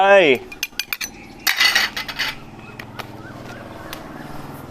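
A chili mixture is tossed in a bowl with utensils, producing a quick run of close metallic clinks and scrapes followed by softer rustling and mixing, with a brief squeaky tone at the start.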